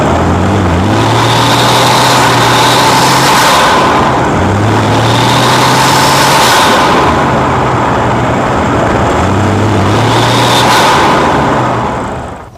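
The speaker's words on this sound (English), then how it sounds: "So I did a couple of pulls with the stock blow-off valve on there." A Nissan Stagea C34 engine pulls hard three times with its stock turbo blow-off valve fitted, a loud sustained roar that climbs through each pull, drops away between them and tails off at the end.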